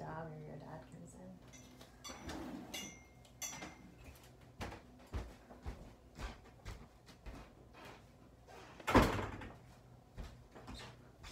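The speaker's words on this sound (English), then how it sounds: "Close this door." A door swings shut with a sharp thump in a home care setting, standing out loudly near the end among scattered household clatter and clicks.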